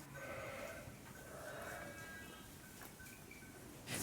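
Sheep and lambs bleat in a sheepfold during lambing, several faint overlapping calls rising over a steady murmur of background noise.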